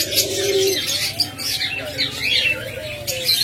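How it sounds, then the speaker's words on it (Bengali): Crested diamond doves in a bird seller's cages coo in soft, repeating rolls close to the microphone, while busy high chirps and twitters from other small cage birds fill the background. "আমার কাছে অনেক শীতল ঘুঘু রয়েছে, যারা এই ঘুঘু পাখিগুলো নেবেন দেখুন, এগুলো খোফাওয়ালা ঘুঘু"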